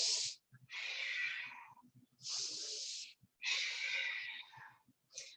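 Breathing during a stretching exercise: several long, audible breaths through the nose and mouth, recorded close with short pauses between them, each one a soft, airy rush.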